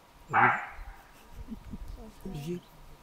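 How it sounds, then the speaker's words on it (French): A single sharp, hoarse bark from a roe deer rings out once over faint background noise, followed by quieter murmuring voices. "Un chevreuil qui aboie."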